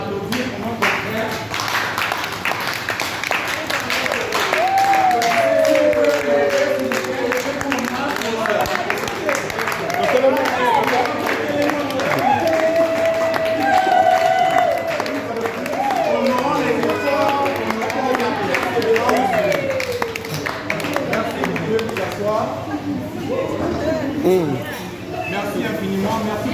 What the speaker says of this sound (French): est-ce qu'une fois de plus, on peut applaudir pour notre frère?